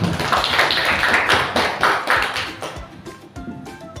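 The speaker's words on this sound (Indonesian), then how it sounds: "Kasih tepuk tangan dulu" A classroom of teachers or students claps hands, loud and close, with dense overlapping claps that thin out into scattered individual claps toward the end.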